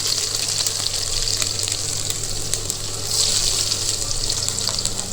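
Cumin, garlic and leaves sizzle and crackle steadily in hot oil in a kadai, a bright, continuous frying hiss close by with no talking.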